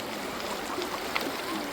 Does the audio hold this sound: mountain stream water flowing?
yes